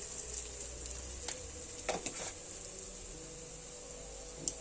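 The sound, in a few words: frying noodles stirred in pan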